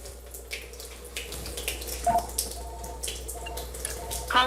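Thin stream of water trickling from a kitchen tap onto dry rice in a container, a steady soft running hiss with a few small splashes and clinks near the end.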